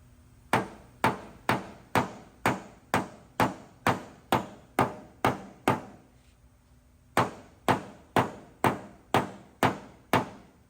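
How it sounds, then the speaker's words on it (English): Sharp, evenly spaced taps of a blending hammer on a dented car door's metal panel during paintless dent repair ring out close by, a steady run of blows, a brief pause, then another even series. "now we're going to use the blending hammer some more"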